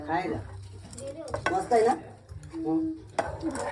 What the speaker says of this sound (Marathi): थोडं थोडं पीठ टाकून ढवळायचं